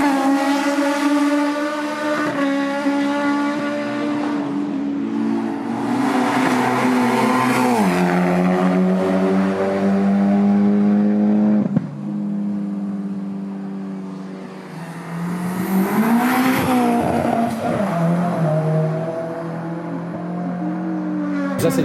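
Loud racing engines at a Dover track day whine and rev, pitch climbing and dropping as cars pass close by in waves, with no talking.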